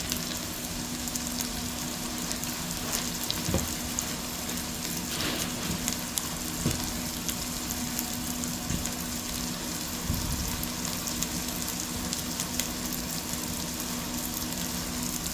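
About half a cup of bacon bits fry in a pot, giving a continuous, even crackling sizzle like light rain, close and steady, with a few soft clunks.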